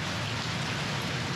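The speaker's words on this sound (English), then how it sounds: "And it is raining." Rain falls at Cypress Creek in Jupiter, Florida, a steady, even wash of patter on surfaces, moderately loud and continuous with no voices.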